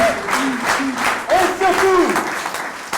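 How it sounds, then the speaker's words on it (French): An audience claps for a theatre director at the end of an amateur stage performance, a dense, lively wash of applause with a voice speaking over it. "Et applaudissons notre metteur en scène, Brigitte Gomez."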